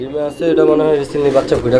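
Pigeons in a breeder's collection coo in deep, repeated throaty phrases close by, mixed with people talking.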